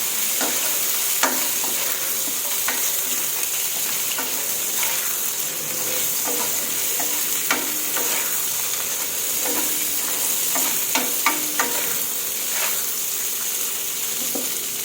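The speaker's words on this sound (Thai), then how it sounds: "คั่วไปเรื่อยๆค่ะ" Shrimp stir-fried with chili and salt in a pan gives a loud, steady sizzle throughout, with frequent scraping and clinking as the spatula stirs, close up and with no talking.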